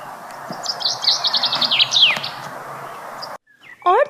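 A small bird chirps rapidly in quick repeated trills, bright and close, followed by a brief pause and a few more rising chirps.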